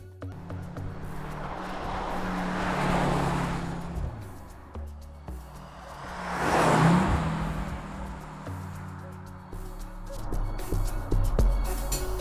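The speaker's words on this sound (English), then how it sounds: "So now we're driving in the city." A Mercedes-AMG GLC 63 S E-Performance drives through the city, its subdued engine and road noise swelling and fading twice over several seconds, fairly quiet and steady throughout.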